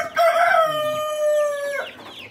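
A Rhode Island Red mix rooster crows once, a single loud, close, drawn-out crow of about a second and a half, with no voices around it.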